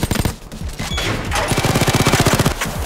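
Rapid bursts of automatic gunfire crackle in a police shootout in Payday 2, loud and dense, building into a steady rattling volley of fast shots with no talking.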